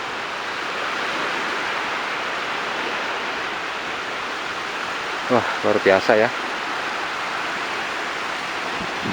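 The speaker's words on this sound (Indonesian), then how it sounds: "Akhirnya kita bisa juga menikmati suara deburan ombak" Steady, broad roar of surf washing in on a north Java coast beach, continuous throughout, with a short burst of speech partway through.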